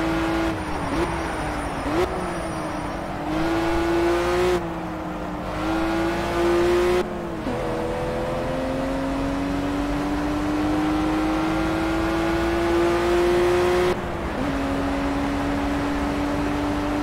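Road-class race cars in Project Cars, the nearby engine droning and revving through repeated gear changes with distinct shift dips, loud and continuous for about seventeen seconds.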